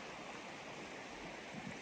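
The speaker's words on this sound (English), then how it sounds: "See the river right there." A river flows through the Bob Marshall Wilderness with a steady, even rush of water that stays quiet and unbroken throughout, with no voices.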